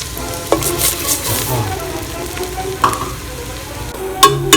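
Panko breadcrumbs with chopped garlic and thyme toast and sizzle in a pan, a steady close fry with scraping stirs and occasional clinks.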